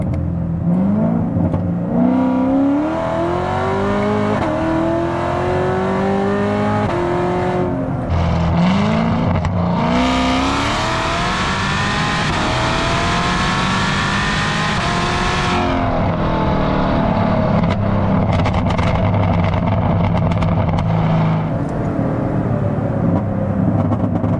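A Chevrolet Corvette ZR1 accelerating hard, its engine loud and close, climbing through several revving pulls with gear changes and a sustained high-pitched howl across the whole run, with no talking.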